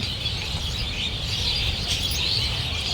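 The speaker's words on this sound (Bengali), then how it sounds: "এত পরিমাণ পাখি ছিল এত কিচিরমিচির করছে সাউন্ড শুনে বুঝতেই পারছেন" Many birds chirp and twitter together outdoors across a wide area, a dense continuous chorus at moderate distance with a steady low background rumble and no voices.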